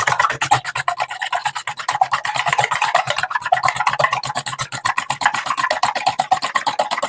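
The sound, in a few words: eggs being beaten in a bowl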